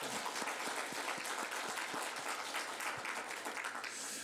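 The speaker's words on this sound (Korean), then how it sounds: "우리 박수를 하나님께." A congregation applauds during a Sunday church worship service, a dense, continuous roar of clapping from many people that fills the room evenly from start to finish.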